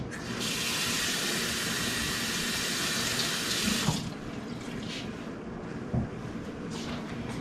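Tap water pours steadily into a sink as cabbage is washed, a loud, continuous rush lasting several seconds, then giving way to quieter splashing and handling sounds.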